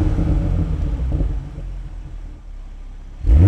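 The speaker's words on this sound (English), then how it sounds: "The noise on the car is not bad, considering this car has a GPF" A Toyota A90 Supra's low exhaust rumble, with a gasoline particulate filter fitted, idles steadily, dipping slightly before a sudden louder surge at the end.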